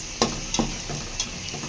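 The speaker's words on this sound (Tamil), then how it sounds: "வெங்காயம் நல்லா வதங்கிட்டு இருக்கு, அது வதங்கட்டும்." Onions for a vegetable biryani sauté in a pan: a brief steady sizzle broken by three or four sharp spatula taps and scrapes.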